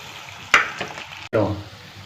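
Semolina potato bondas are lowered into hot oil, setting off two sudden bursts of close, bubbling sizzle, each fading into a steady fry.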